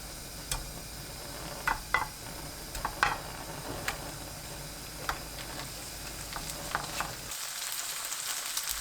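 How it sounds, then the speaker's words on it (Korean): Tofu frying in cooking oil in a pan gives a steady, close sizzle with scattered sharp pops and ticks, running alone without talk before cutting out near the end. "팬에 식용유 두르고 두부를 구워주세요."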